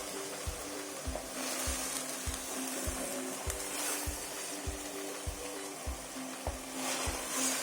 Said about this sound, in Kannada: ಇದನ್ನು ಸ್ವಲ್ಪ ಎಣ್ಣೆಯಲ್ಲಿ ಒಂದು 5 ನಿಮಿಷ ಚೆನ್ನಾಗಿ ಹುರಿಬೇಕು.